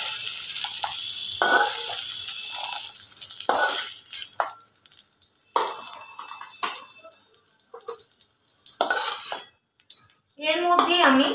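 Fried potatoes being lifted out of a pan with a metal utensil in a home kitchen while cooking lau shak, giving repeated clinks and scrapes of metal against the pan in irregular bursts with short pauses, close by.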